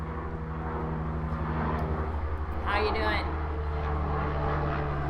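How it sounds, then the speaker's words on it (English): A low, droning engine hum from a helicopter passing at a distance, with a brief spoken greeting partway through. "Kind of like this helicopter going by."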